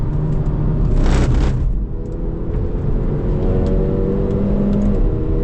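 A 2025 Hyundai i30 N hatchback with a turbocharged 4-cylinder engine drives hard on a race track, heard from the cabin as a loud steady drone with a brief surge as it revs and then settles into a sustained rumbling pull.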